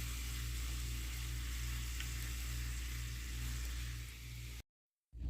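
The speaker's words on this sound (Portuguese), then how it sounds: "olha só como ele borbulha bem mais rápido, tá? Na mesma temperatura que eu coloquei o outro" Sugar heated in a hot frying pan in a home kitchen bubbles and sizzles in a steady, dense hiss, close and alone, before cutting off abruptly near the end.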